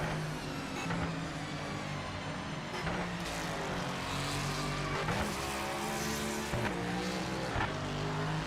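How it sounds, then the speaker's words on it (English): A vehicle engine in a racing video game on a wet track, revving and dropping through repeated gear changes, the whine rising and falling with the odd tyre hiss, fairly close and steady, no voices. "Sounds like a motorbike in the wet."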